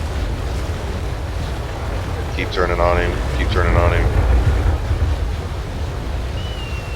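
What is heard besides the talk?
wind and ocean waves in the video game Naval Action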